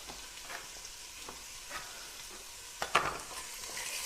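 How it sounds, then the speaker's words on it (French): Steady sizzling of pork frying in a saucepan over fairly high heat, with a few soft stirring scrapes and a brief clatter near the end. "on fait revenir le porc là-dedans sur un feu assez fort quand même"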